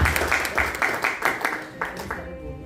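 An audience at a Father's Day gathering claps in a quick, uneven rhythm, moderately loud and close, tapering off after a couple of seconds.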